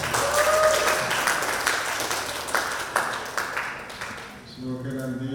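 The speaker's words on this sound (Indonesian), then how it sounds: "11 tepuk tangan untuk kita semua." Teachers and staff applauding at a school dissemination event, a room of clapping that gradually thins out, then a voice begins speaking as the applause fades.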